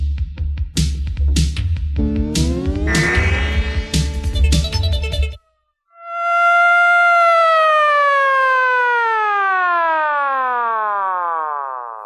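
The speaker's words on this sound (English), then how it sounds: "Yeah, it's called the siren." An emergency siren wails loudly and alone, rising and falling in long sweeping tones after a stretch of rhythmic pulses, then cutting out briefly before a long continuous wail that slowly drops in pitch.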